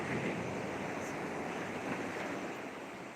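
Sea waves wash steadily onto the shore at night near a coastal church, a broad continuous surf roar with some wind rumble and no speech.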